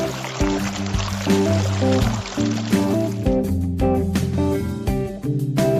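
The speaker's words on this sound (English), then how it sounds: "I think I can turn the bubbling brook down a little bit." A bubbling brook fountain sound playing loudly as continuous background audio on a streamer's feed, steady and dense throughout, mixed with a layered tonal music-like bed of repeating sustained notes.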